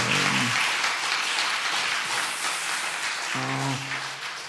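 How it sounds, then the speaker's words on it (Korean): Church congregation applauding during a Sunday afternoon service, a moderate wash of clapping throughout, with brief bits of a voice at the start and near the end. "박수 해주시기 바랍니다."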